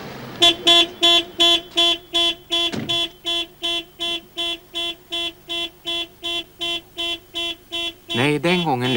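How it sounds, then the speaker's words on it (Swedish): An electronic burglar alarm on a 1980s car going off, a loud, steady series of about twenty evenly spaced harmonic beeps close by, ending in a rising and falling siren-like sweep. "Ett elektroniskt tjuvlarm som vakar över bilen"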